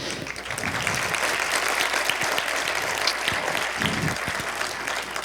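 An audience at a city State of the City address applauds, a dense, steady wash of clapping from many hands that holds evenly throughout.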